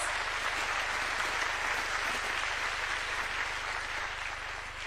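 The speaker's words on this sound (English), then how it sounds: "Please give yourselves a round of applause." A summit audience applauds steadily, a dense wash of many hands clapping continuously and fairly loudly throughout, with no voices standing out.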